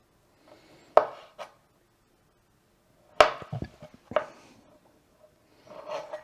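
A knife cuts an avocado into strips on a cutting board during sushi prep, giving a few sharp, close chopping knocks spread over several seconds with quiet pauses between.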